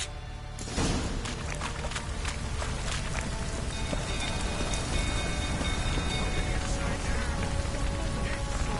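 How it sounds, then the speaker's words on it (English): Heavy rain begins abruptly and keeps pattering steadily on a surface, dense and close, with scattered louder drips. "Looks like rain."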